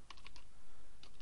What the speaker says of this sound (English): so I'll type here